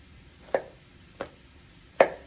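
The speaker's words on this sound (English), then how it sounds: "I use the same method of my chopping up my garlic as I do for my onion" Knife chopping garlic on a cutting board, three separate sharp chops spaced unevenly, close and fairly clear over a quiet background.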